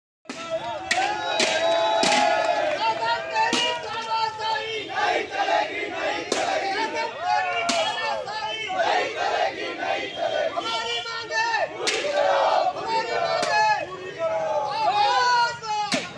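Striking workers protesting against the state government chant slogans loudly as a crowd, with rhythmic shouted bursts and overlapping voices throughout.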